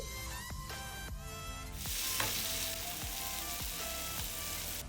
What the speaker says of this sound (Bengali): এর মধ্যে অল্প পরিমাণ কুচনো ধনেপাতা দিয়ে মশলার সাথে কষিয়ে নিচ্ছি